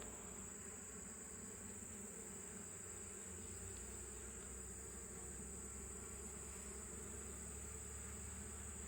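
Honeybees buzz steadily around an open nuc hive during a late-summer inspection and mite treatment, a continuous insect hum with a low rumble underneath, no voices.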